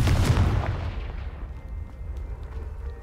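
Confringo blasting spell in Hogwarts Legacy striking a pile of debris: one loud, heavy boom at the start that rumbles and fades into a long, dimming tail.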